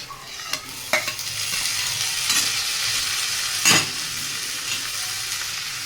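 Finely chopped tomato goes into onion and garlic frying in oil for an instant paneer curry, giving a steady close sizzle with a few sharp scrapes and clacks of stirring scattered through it.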